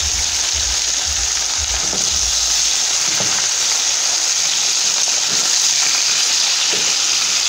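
Meat fries in a pan with a steady, loud, dense sizzle and crackle from start to finish, along with a few faint clinks of stirring and no talk.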